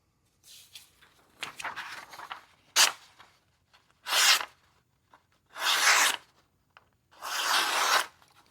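Kizer Quartz fixed-blade knife slicing through material, a series of rasping, scraping cuts heard up close, coming first as short uneven strokes and then as three longer, louder drawn cuts, with no talking.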